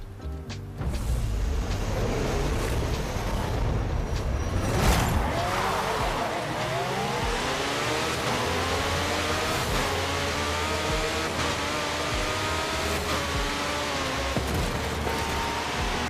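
A roughly 1,340-horsepower car in the Forza Horizon 5 racing game roars loudly, its engine revving up repeatedly through rising gear sweeps with some tire noise, heard alone without talk.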